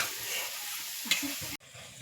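Alu vadi, colocasia leaf rolls coated in gram flour batter, frying in hot oil, with a steady close sizzle and a few stirring sounds before it cuts off abruptly near the end.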